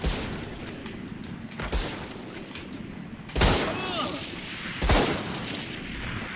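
Gunfire in the video game Valorant: a few sharp shots and short bursts ring out over a steady game-ambience hum, with two heavier blasts near the middle and end.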